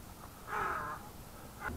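A crow or raven caws outdoors along a walking path: one harsh, drawn-out caw followed by a shorter, fainter call, fairly close and clear over low background hiss.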